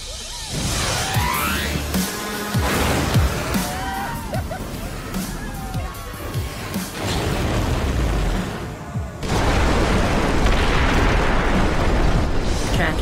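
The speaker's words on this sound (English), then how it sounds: "Tracking multiple consecutive explosions." In the Xbox One game Screamride, a chain of explosions goes off one after another: repeated booms, crashes and debris bursts layered over busy game sounds, loud and close throughout.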